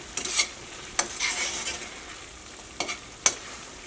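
Tomatoes fry and get stirred in coconut oil, giving a soft, steady sizzle broken by a few sharp scraping stirs near the start, middle and end.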